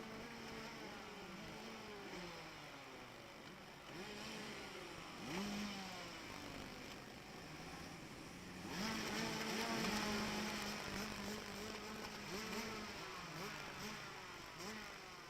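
Rotax racing kart engines rev together in a dense, continuous buzzing drone at a race start, their pitch swelling and falling before rising louder as the pack pulls away.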